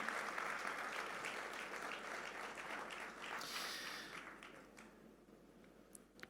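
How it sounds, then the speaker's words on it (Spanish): Church congregation applauding in praise, a steady wash of many hands clapping that tapers off after a few seconds, heard from a moderate distance. "Fuerte ese aplauso de alabanza al Señor."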